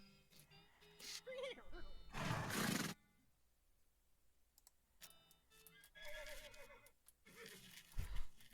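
A horse in West of Loathing gives a loud whinny over the western game's music, set among bursts of other game sounds.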